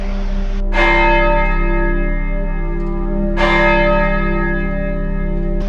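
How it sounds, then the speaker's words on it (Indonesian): A church bell rings twice, each strike loud and resonant, with a long humming decay between strikes. "Suara lonceng itu kembali datang, lebih dekat, lebih jelas."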